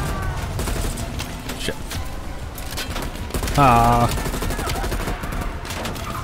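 Call of Duty Cold War gunfire rattles continuously in a dense, loud battle din with a brief louder burst midway, while someone speaks over the shooting.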